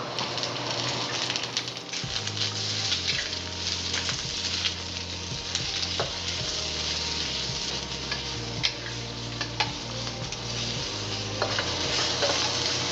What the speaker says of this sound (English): Stir fry our onions,